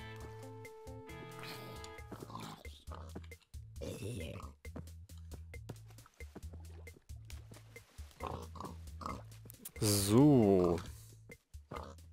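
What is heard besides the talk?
pigs oinking in Minecraft video game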